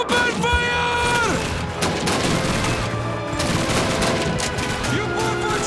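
Sustained gunfire from a battle in a Leningrad custom map for Call of Duty, loud and continuous bursts of rifle and machine-gun fire with booms, plus shouting voices and music underneath.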